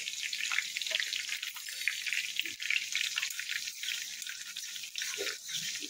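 Fenugreek seeds hit hot oil in a home kitchen and set off a continuous crackling sizzle with scattered pops and spits, close and steady.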